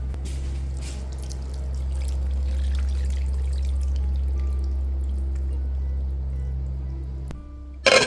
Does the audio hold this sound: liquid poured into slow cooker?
yes